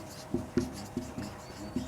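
Chalk or marker taps and short strokes on a board, five or six quick separate marks at an uneven pace, close and fairly quiet with no talk.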